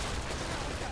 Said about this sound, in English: that sounds like a submachine gun